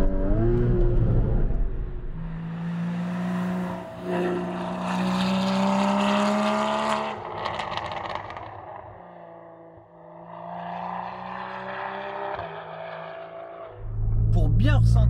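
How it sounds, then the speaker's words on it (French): A Porsche 981 Cayman 2.7 with an extra 30 hp and a reworked chassis, its engine revving up through the gears while driving, loud and rising in pitch, with a short dip between pulls. "deuxième, je pars à 2000 tours. À 4000 ça braille, à 5000 ça s'énerve"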